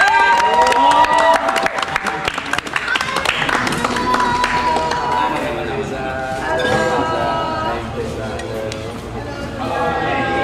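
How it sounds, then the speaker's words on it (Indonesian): Lively crowd at an Indonesian film-cast gathering claps and cheers amid clinking glass and voices, a busy, loud mix of applause, chatter and bright metallic clinks throughout. "Everybody tepuk tangan buat Susana"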